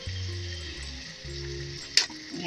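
Chicken pieces with taro simmering in a wok over low heat, Assamese home style: a soft, even sizzle under a low hum, with one brief clatter near the end.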